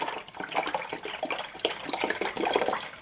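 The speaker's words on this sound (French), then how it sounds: "je verse approximativement tout le reste de la brique. Pratiquement un litre de lait." Roughly a litre of milk poured from a carton into a pan on low heat, a steady liquid splashing and gurgling stream lasting a few seconds at close range, with no talking.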